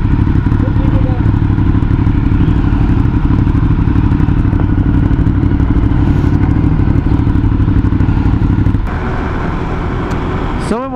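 A Triumph Street Triple being ridden gives a steady, loud engine drone mixed with rushing wind that runs nonstop, then eases slightly in the final couple of seconds.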